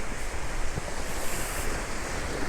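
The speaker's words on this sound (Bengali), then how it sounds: "সমুদ্রের এই গর্জন এটাই আমার কাছে সবচেয়ে ভালো লাগে" Sea waves roar onto the shore of a blue-water beach in a loud, unbroken wash, buffeted by close wind noise on the microphone.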